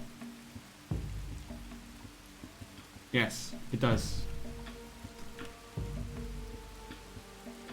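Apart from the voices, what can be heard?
rain falling in the video game Dawn of Man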